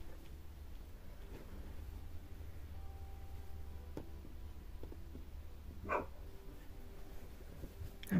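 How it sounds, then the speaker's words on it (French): Dogs bark outdoors at a distance, a couple of faint, sharp yips standing out over a steady low background hum, with no one talking. "Qu'est-ce que ça gueule, les chiens, comment ils gueulent dehors?"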